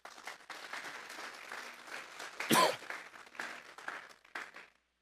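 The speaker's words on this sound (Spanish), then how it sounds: "Vamos a darle un fuerte aplauso pues al Señor." A church congregation claps in praise, a moderate spread of hands applauding that swells briefly with one sharp burst near the middle, then thins and fades out at the end.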